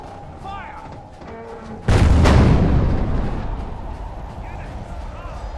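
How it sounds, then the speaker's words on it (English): Catapults firing during a Scotland vs England battle in Medieval 2 Total War, with one loud booming impact that decays into a long rumble, and battle noise underneath. Someone talks before the blast. "The catapults now are shooting."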